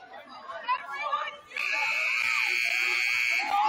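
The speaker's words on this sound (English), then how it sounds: "And here's the buzzer sounding." In a gym during a boys' high school basketball semifinal, Pequannock at Cresskill, crowd chatter gives way to a loud, sustained electronic game buzzer. It blares steadily for about two seconds over the murmuring crowd.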